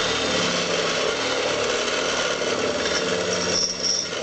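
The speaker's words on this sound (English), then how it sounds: "So I got a 3/8 drill bit, and I'm just going to follow that right on through." A power drill with a 3/8 bit grinds steadily through material, a constant loud buzzing whir with slight pitch wobble as the bit bores in.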